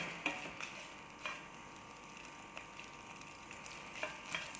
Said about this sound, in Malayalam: മുളക് ഫ്രൈ ആയിട്ടുണ്ട്